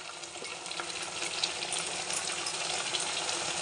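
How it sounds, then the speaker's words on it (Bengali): Water poured steadily into a pan of butter paneer, a continuous splashing gush that stays even and fairly close for a few seconds with no voices. "এই জল এখানে দাও, এখানে দাও, এটাতে দাও,"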